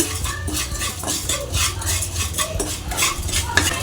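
A utensil stirs melting sugar in a pan for milk tea, scraping repeatedly against the metal in an uneven rhythm over a soft background sizzle, close and clear, with no talking.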